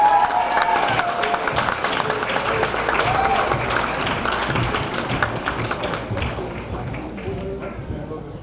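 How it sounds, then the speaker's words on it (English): Banquet audience at the 2019 Suffolk Peanut Fest Queen's Banquet applauds the returning pageant court, a steady crowd clapping that carries on for several seconds and gradually eases. "Please give them a round of applause."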